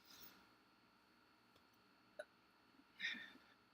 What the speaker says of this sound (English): I burped. It was a little petite chai burp.